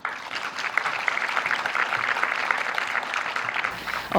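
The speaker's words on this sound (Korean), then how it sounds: "큰 박수로 부탁드립니다" An audience at a seminar on aging-friendly industry and AgeTech applauds steadily for about four seconds, heard from within the room at moderate loudness.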